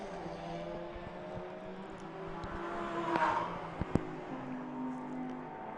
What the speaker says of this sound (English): Boy, that Parker Thompson Audi sounds good, doesn't it? Wow, what a pretty sound.